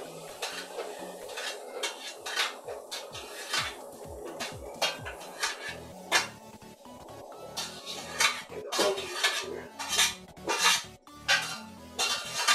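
Mashed potatoes scraped and rolled back into a cooking pot, with repeated clanks and scrapes of a utensil against metal cookware, close and moderately loud, in an irregular rhythm throughout.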